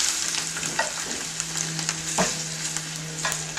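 Flour-coated lamb shanks fry in olive oil with a constant close sizzle and crackle, broken by a few soft clinks and stirring sounds. No one speaks.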